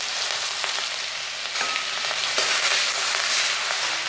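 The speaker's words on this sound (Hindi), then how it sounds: "तेल गरम हो गया है, अब इसमें हम राई डालने से इसका स्वाद अच्छा होता है।" Mustard seeds, cumin and curry leaves sizzle and spit in hot oil in a pan, a steady close hiss with crackles and a brief stir partway through, no talking.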